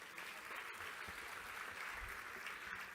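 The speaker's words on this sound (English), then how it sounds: "3 rounds of applause for COEP" Faint, distant applause from an audience at an engineering college awards event, a steady hiss of many hands clapping throughout, with no one speaking.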